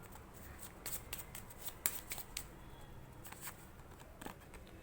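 Tarot cards being shuffled by hand, a run of crisp riffling snaps and papery flicks, close and fairly quiet, with a soft background hiss.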